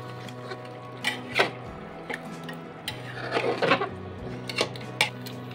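Whisked yogurt is stirred into mutton in a pan for a Rajasthani mutton curry, with intermittent scrapes and clinks of the spoon over a low steady hum.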